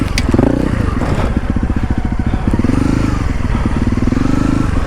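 An off-road motorcycle being ridden near trees, its engine loud and close with a rumbling, fluttering note that rises and falls with the throttle, mixed with rattling and wind buffeting.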